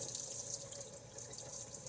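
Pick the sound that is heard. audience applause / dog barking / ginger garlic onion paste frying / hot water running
hot water running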